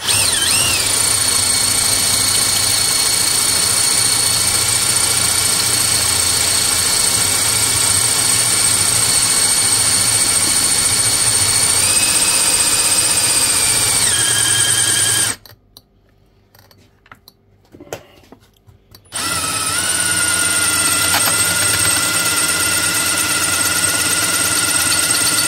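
An electric ground electrode driver, Hikoki or Ruko, runs with a loud, steady high-pitched motor whine, then stops abruptly for a few seconds and starts up again at full speed.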